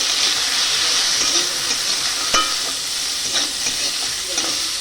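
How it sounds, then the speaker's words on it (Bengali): Steady hissing sizzle of peas frying in a pan, with occasional scrapes and clicks of stirring, loud and close. "এবার ওর সঙ্গে একটু মটরশুঁটিগুলো দিয়ে একটু ভেজে নেব"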